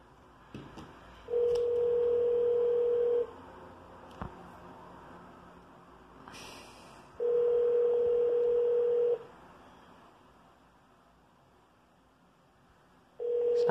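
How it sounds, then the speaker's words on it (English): Over a telephone line, a steady single-pitch tone sounds in long bursts of about two seconds with pauses between them. The pattern resembles a ringback or busy tone heard after dialing. "We should trigger this tone. Yep, we're dialing it."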